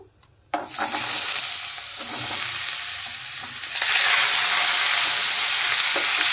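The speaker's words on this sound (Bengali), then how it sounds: "এখন আমি এর মধ্যে দিয়ে দিচ্ছি সেদ্ধ করা পেঁপে আর আলু।" Boiled raw papaya and potato dropped into hot oil with whole cumin and bay leaf, a sudden loud sizzle bursting up after a short quiet start, then steady frying and stirring that grows louder toward the end, no voices.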